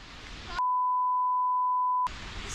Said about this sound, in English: Tyson received a severe storm alert on his phone